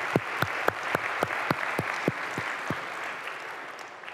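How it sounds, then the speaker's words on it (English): Steady applause from an audience, a dense wash of clapping with a few louder individual claps standing out, sustained throughout and easing slightly near the end. "join me in giving an applause to IPA."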